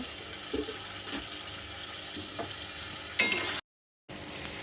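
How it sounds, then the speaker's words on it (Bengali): Spice paste for a fish and potato curry fries with added water, making a faint, soft sizzle. Occasional stirring scrapes sound through it, and there is a brief silent gap near the end. "আমি জল দিয়ে মশলাটাকে ভালো করে কষিয়ে নেব"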